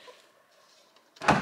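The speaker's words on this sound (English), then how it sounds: "Just open the door." Door of a barn-find TVR Cerbera with faulty electrics, a quiet faint whir and a pause, then a sudden loud clunk and rattle as it releases near the end.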